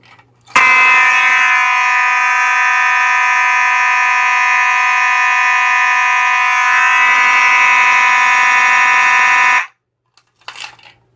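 Two 2901-9838 fire alarm horn strobes set off together from a pull station, blaring one loud continuous tone for about nine seconds before cutting off abruptly.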